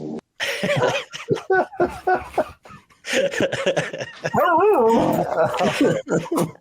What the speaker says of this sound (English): A dog that needs some attention, but we're going to work on that.